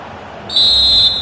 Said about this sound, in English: there goes the final whistle